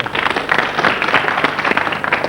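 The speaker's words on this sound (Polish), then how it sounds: "Brawa dla naszych graczy." Applause from a small group, steady dense clapping that holds for a couple of seconds, close and fairly loud.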